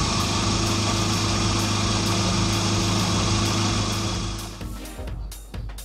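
A car engine idles steadily and loudly up close, then the revs sag and the running turns uneven near the end as the air conditioning switches on.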